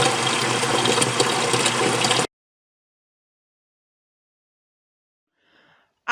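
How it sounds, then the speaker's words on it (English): Hot water gushes steadily into a container on a farm during an ice storm, close and loud for about two seconds before cutting off abruptly, followed by near silence and a faint brief noise at the end. "I'm going to fill it up with hot water"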